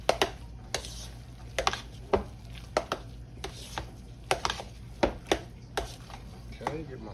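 Cornbread dressing seasoned with salt and pepper is mixed in a pan, with repeated close thumps, scrapes and clinks of the utensil in an irregular rhythm while a person talks intermittently.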